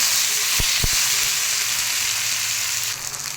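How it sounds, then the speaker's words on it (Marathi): Chopped tomato and onion sautéing in a pan for a moong dal dish, a constant close sizzle with a couple of sharp spatula knocks early on, no voices. "आपण टोमॅटो कांदा चिरताना थोडासा मोठा मोठा चिरलेला आहे मग आता हे छान परतून घेऊया"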